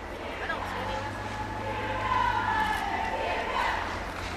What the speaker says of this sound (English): They're loving it. They're cheering them on.